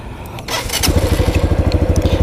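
A Lifan KP Mini motorcycle engine is test-started, a brief crank catching into a loud, steady, rhythmic putting idle, close by and with no one talking.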